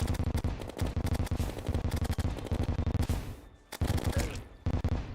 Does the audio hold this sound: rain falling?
no